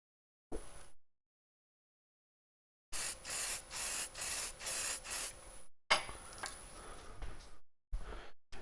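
Lacquer finish is sprayed in coats onto a wood-turned two-piece threaded ornament, heard as a run of short, close hissing bursts in quick rhythm, then longer sprays separated by brief silences.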